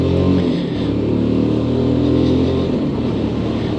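A Lexmoto LXS motorcycle on a test ride through traffic, its engine droning loudly and continuously up close as it pulls away, with no speech.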